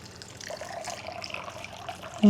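Weak water trickling from a tap, a faint, thin steady stream that swells slightly before a louder clunk at the end.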